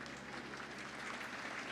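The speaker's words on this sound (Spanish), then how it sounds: "Fuertes palmas." Applause at a Bible school graduation ceremony, a steady wash of hand claps from the gathered audience filling the whole moment at moderate volume without pause.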